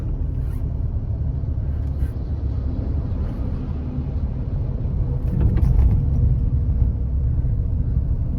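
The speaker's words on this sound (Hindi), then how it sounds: "यहाँ लगाते हैं सामने गाड़ी अपनी।" A car pulls up and parks in front of a roadside viewpoint on a hill route from Swarghat to Hamirpur. Its engine rumbles steadily and close, swelling slightly near the end, with faint background noises.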